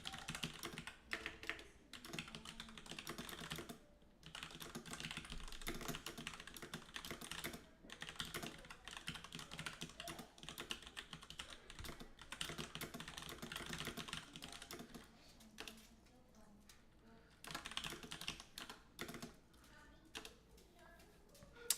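Rapid typing on a computer keyboard, a steady run of close, crisp key clicks with short pauses between bursts and faint background hum; no voices.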